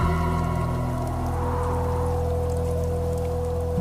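Cartoon-style rain falls on a stormy night in a dense forest, a steady hiss of downpour layered under sustained, moody musical tones.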